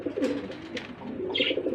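A Giribaz pigeon coos in soft, low, throaty pulses, close by, with a brief higher chirp near the end.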